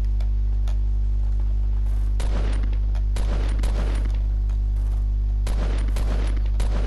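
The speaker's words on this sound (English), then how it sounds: "I can hear gunfire." Sharp gunfire bursts in the video game Fortnite crack out in a few clusters over a steady low hum, with scattered single shots between them.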